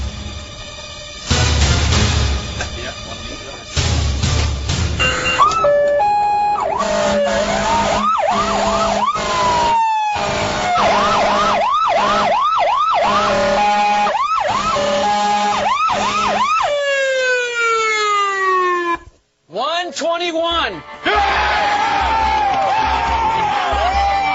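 An American KME fire engine siren blares loudly and close, cycling through wailing sweeps and rapid yelps, with brief blasts of a deep horn.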